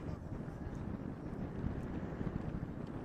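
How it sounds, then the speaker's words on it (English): Gusting wind buffets the microphone at an open-air football pitch during an under-18 match. It makes a steady, loud rumbling roar that goes on throughout with no clear break. "just been the gusting wind that's been an issue for the players"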